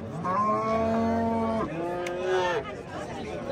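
Dairy cow lowing at a rural livestock market in Muzrabot, Surxondaryo, with two long, loud, close moos separated by a brief pause, background market chatter faint underneath.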